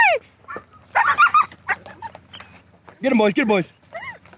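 Excited hunting dogs whimper and whine at distant deer while someone shouts encouragement over them, the high whines brief and partly buried under his voice.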